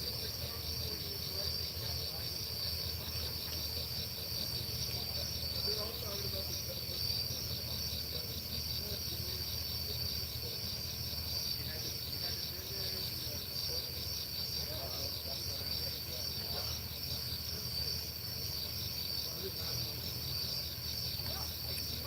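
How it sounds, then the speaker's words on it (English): Crickets chirp outdoors at night in Chester County, Pennsylvania, a dense continuous high trill throughout with a low background rumble. "Hear the crickets?"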